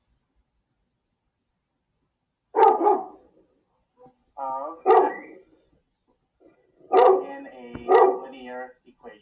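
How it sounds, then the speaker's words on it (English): A dog barks in a few short, loud bursts spread over several seconds, indoors, while a person speaks nearby between and over the barks. "That's just my dog barking like he always does."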